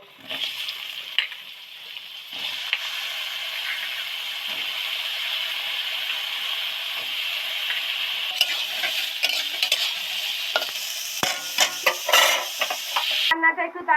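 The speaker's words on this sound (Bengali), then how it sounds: "এবার সয়াবিনটা যে গরম জলে বাপিয়ে নিয়েছিলাম সেটা একটু ভেজে নেব" Soaked soybean chunks frying in a pan, a continuous loud sizzle and hiss with scraping stirs and spatula clinks growing busier toward the end.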